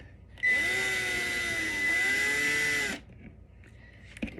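A cordless power drill with a number 2 bit unscrews a screw from an RV light fixture, giving one close whirring run of about two and a half seconds whose pitch dips and rises, then quiet handling noises.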